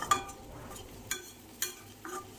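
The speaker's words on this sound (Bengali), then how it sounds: "আরও এক মিনিট মতো একটু নাড়াচাড়া করে নেব" Cauliflower leaves with peanuts and sesame seeds are stirred in a pan: soft, quiet scraping strokes land about every half second over a faint cooking hiss, heard close up.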